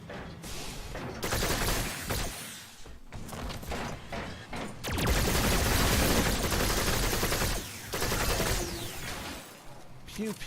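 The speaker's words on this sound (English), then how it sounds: "Now, this gun is described as being a laser rifle." Dera laser rifle firing in Warframe, repeated bursts of rapid energy shots that start and stop in long stretches, loud and close, with a voice talking in places.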